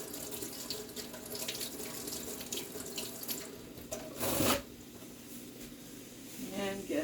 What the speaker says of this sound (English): Rinse my hands from the raw meat.